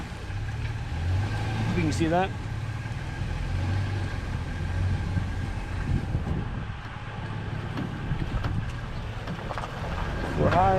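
A vehicle climbs a hill with its window open, a steady low engine rumble and road noise running throughout while a person talks over it.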